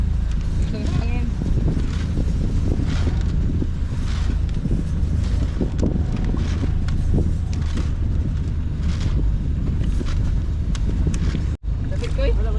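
Strong wind blows outdoors near the sea, roaring steadily and buffeting the microphone for the whole stretch, with people talking intermittently beneath it.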